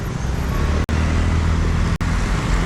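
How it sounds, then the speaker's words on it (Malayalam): A Volvo bus turns on a narrow road in Nepal, its engine giving a steady low rumble with traffic noise around it. The sound cuts out sharply twice. "വോൾവോ തിരിക്കാൻ ഈ റോഡ് മൊത്തം വേണം."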